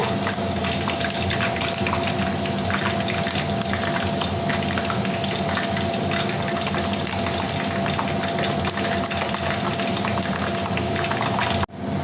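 Ration palm oil sizzles steadily with tamarind frying in it, a dense, loud, continuous crackle and hiss that holds evenly before cutting off abruptly at the end.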